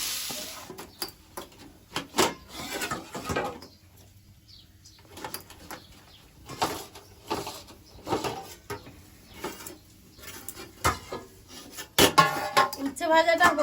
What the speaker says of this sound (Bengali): হতে হতে এদিকে বাসনগুলো মেজে নিই